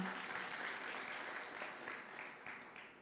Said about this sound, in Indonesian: Tepuk tangannya jangan tanggung-tanggung.